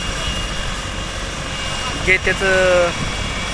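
A helicopter sits on a helipad in Pandharpur readying for takeoff, its engine and rotors making a steady loud drone with a rising whine near the end, while someone talks over it.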